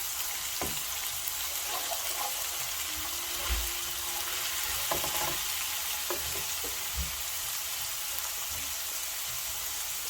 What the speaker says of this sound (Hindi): हल्का से हमने इसको बस फ्राई करना है, इसका कलर चेंज नहीं करना है।